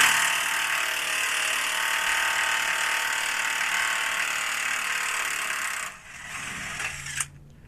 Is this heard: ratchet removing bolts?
yes